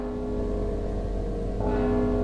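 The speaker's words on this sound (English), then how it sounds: "Don't you hear the bell?" Bell tones ring steadily through a stealth level of the video game Mark of the Ninja, a sustained tonal chime layered over game ambience that grows a little brighter and louder near the end.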